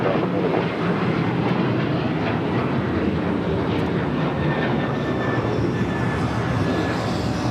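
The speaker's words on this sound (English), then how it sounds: "Got that Delta A350 900 heading to Atlanta, heading here to the south side" A Delta Airbus A350-900 jet takes off at LAX, bound for Atlanta, with a steady, broad engine roar that holds loud and even from start to finish with no voices over it.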